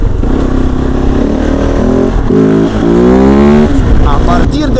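Loud, close Kove 450 Rally motorcycle engine with a Stage 2 power-up, revving and climbing steadily in pitch through the rev range, with voices briefly audible over it.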